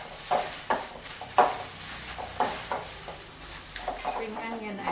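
Cucumber salad tossed with spring onion and coriander for a spicy Thai dish, giving a series of soft wet stirring and clinking bursts roughly every half second, close by with a faint background.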